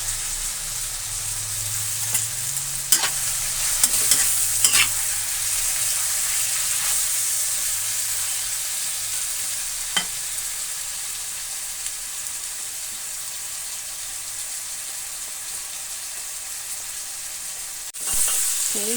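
Chicken meat sautéing with chayote tops in a pan, a steady broad sizzle holding for the whole stretch, with a few sharp utensil knocks and scrapes early on and another clatter near the end.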